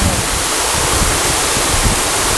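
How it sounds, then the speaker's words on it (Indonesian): Batu Lapis waterfall in a forest area near Payu Jambi village, Jambi, gives off a loud, steady, close rushing roar of falling water without pause. "air terjun batu lapis ini"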